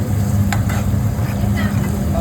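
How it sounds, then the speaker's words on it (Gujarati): Cumin seeds frying in hot oil for a Kathiawadi spiced bajra rotla make a loud, dense, continuous sizzle close by, with faint low rumbling underneath and no talk. "આપણે જીરું બી નાખી દીધું છે. ફ્રાય કરી રહ્યા છે."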